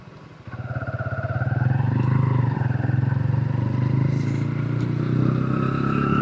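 A 2025 Honda CB125 Hornet motorcycle accelerates in fifth gear, its engine note swelling from a low putter into a steady, close buzzing drone that holds for several seconds.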